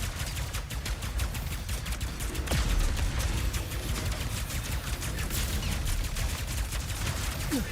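Rapid, continuous weapon fire at a dropship in Ratchet & Clank Rift Apart, dense bursts of shots rattling on for several seconds at a steady, loud level with a few sharper blasts in between.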